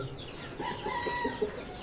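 A few Colombian Light Brahma chickens and local chicks cluck softly nearby, short rising and falling calls over a quiet background.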